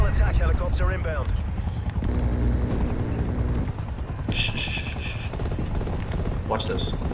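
Attack helicopter rotor drone in Call of Duty Black Ops Cold War, a steady loud churning beneath bursts of gunfire, with voices talking over it.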